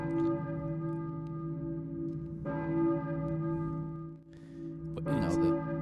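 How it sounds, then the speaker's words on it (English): A church bell tolls in the Silent Hill video game, its steady ringing tones sustained across the clip with a few brief faint sounds layered over it. "I hear a church bell, maybe."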